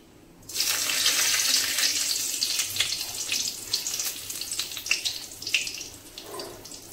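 Dried red chilli and whole spices hit hot oil for a Bengali mutton curry tempering, bursting into a sudden loud sizzle that slowly fades into scattered crackles and spits close by.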